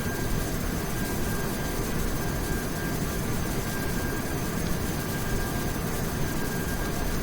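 Boeing 737 jet engines climbing in the X-Plane flight simulator game, a steady, even roar of engine and rushing air that holds unchanged throughout with no voices.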